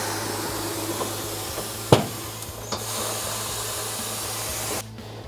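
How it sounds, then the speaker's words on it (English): The bead breaker on an Ascenta ATC24T 24-inch tyre fitting machine hisses steadily as it presses the tyre, and one sharp pop breaks the bead partway through. The hiss cuts off near the end. "you need to break the bead of the tyre on both sides using the bead breaker on the machine"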